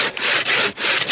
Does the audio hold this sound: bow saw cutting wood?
yes